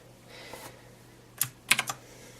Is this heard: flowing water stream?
no